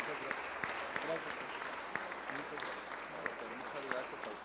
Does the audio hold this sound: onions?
no